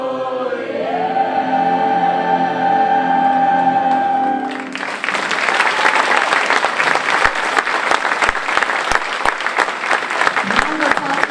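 Audience applause for a scat soloist at a ninth-grade spring concert, breaking in loud and sustained after a held sung note and lasting to the end.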